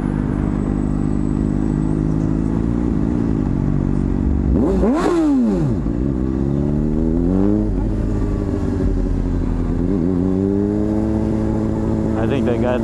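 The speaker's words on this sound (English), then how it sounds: "another rev bomb" Loud car or motorcycle engine revs and pops on the Las Vegas Strip, a sharp rising-and-falling rev burst near the middle followed by smaller revs over steady traffic rumble, with a voice speaking.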